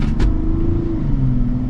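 Engine of a 2026 BMW X7 or Mazda CX-90 pulling steadily under acceleration, a continuous close cabin drone with a faint shift-like dip near the end and a brief whoosh at the start.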